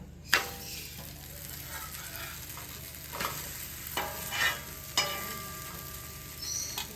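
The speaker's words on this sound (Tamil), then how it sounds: "எண்ணெய் ஊற்றிக்கலாங்க அடைய திருப்பி போட்டுக்கலாங்க" Wheat adai fries in oil on a pan, giving a steady soft sizzle with occasional louder scrapes and clinks as it is turned and stirred.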